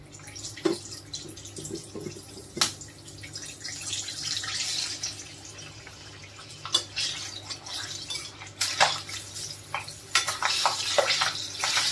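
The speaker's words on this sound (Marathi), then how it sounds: "मिरच्या पण तळून घेऊया" Green chillies frying in hot oil for a homemade samosa recipe give a steady crackling sizzle with scattered sharp pops and stirring clinks, close and alone without talk.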